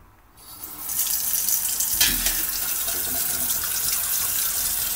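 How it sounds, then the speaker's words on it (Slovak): Cold tap water gushing into a sink over a colander, starting abruptly and then running as a steady, close, full splashing rush with no voices. "cedítko sa dáme takto do umývadla, pustíme studenú vodu"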